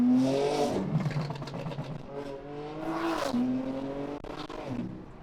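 A BMW M4 sports car engine revs loudly and repeatedly nearby, pitch climbing and dropping in aggressive bursts with a throaty growl.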